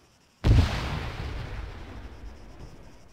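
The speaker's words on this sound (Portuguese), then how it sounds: "O tiro pegou aqui perto. Mas foi bala perdida." A single gunshot from the video game Arma 3 cracks suddenly, then rolls off into a long, echoing tail that fades slowly, heard alone with no talk.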